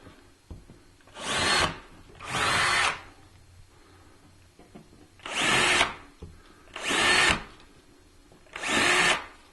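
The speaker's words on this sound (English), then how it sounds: "I have to drill holes in the plaster to the lath" A power drill whirs in five short bursts into a plaster wall down to the lath, each a couple of seconds long with pauses between, close by and loud.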